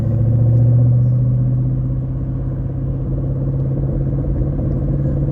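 A 2013 Ford Mustang GT V8 rumbles steadily while driving, a deep, continuous low drone heard up close from inside the car with no talking.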